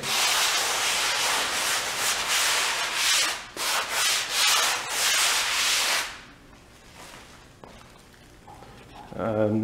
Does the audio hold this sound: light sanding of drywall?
yes